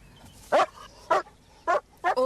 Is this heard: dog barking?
yes